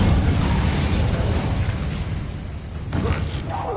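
The Incendio fire spell is cast in Hogwarts Legacy on PS5: a loud, roaring burst of flame with crackling, mechanical-sounding texture, sustained throughout and briefly swelling near the end.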